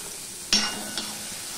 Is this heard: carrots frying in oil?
yes